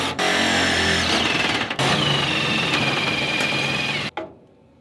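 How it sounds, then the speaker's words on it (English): A power drill drives sheet metal screws while an AprilAire 500 whole-house humidifier is installed. A close, loud whining motor runs steadily, dips briefly once, then resumes before cutting off near the end. "I'm making sure it's level as I am installing the sheet metal screws."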